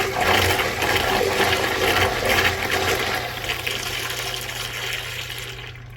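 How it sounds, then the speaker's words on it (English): A fourth-generation Kohler Dexter siphonic urinal flushes in a forceful, blowout-like rush of water from its rim jets and siphon jet, loud and close, tapering slightly as it continues. "Let's have a look at a flush."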